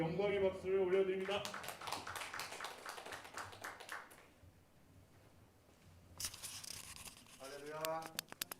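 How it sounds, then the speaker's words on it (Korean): A church congregation at a Christmas service claps in praise, brief bursts of clapping between stretches of someone speaking, moderately quiet and roomy. "하나님께 영광의 박수를 올려드립니다"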